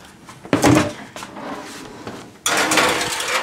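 An oven door opens and thuds shut as a tray of baked crab rangoon goes into a 400 degree oven, two short knocks and clatters close by, followed by a louder rush of oven noise.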